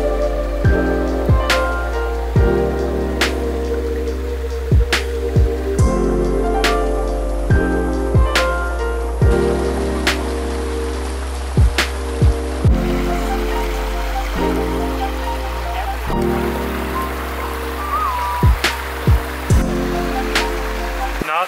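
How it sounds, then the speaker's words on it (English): Steady rushing water of a waterfall roars in the background, broad and continuous, with scattered sharp knocks and clicks on top. "There we go, rushing water."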